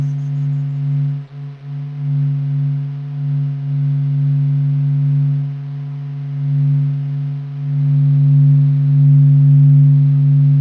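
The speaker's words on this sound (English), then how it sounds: "This is the sound of the sun." A sonified recording of the sun: a steady low electronic hum with layered harmonic tones, droning continuously with slight wavering pulses throughout.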